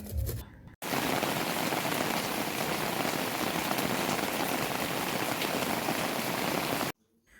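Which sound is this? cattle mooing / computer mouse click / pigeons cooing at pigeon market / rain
rain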